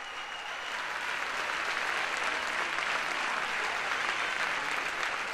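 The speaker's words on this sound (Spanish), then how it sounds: "Drag Seven, venga ese aplauso bien fuerte" Steady, dense applause from an audience at a drag queen gala in Corralejo, greeting the performer Drag Seven, sustained and even from start to finish with no voices rising above the clapping.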